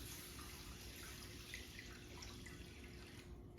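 Chicken broth poured from a 2-cup liquid measuring cup into a dish for chicken and rice, a steady, fairly faint splashing stream that runs alone for a few seconds and thins out near the end.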